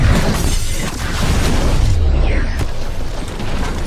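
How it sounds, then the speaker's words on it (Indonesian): A bomb thrown into a house explodes in a loud, dense burst with a low rumbling boom and debris noise that fills the whole stretch without talk. "Terjadi ledakan besar"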